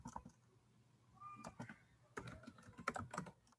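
Keys tapped in short clustered bursts while entering code on a computer keyboard, fairly close and moderately loud, with brief pauses between runs of strokes and no talk.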